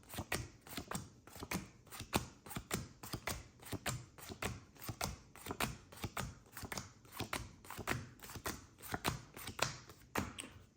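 Playing cards from a 21-card trick are dealt and flipped one by one into piles on a table, giving a steady run of crisp, close slaps and taps with no talk.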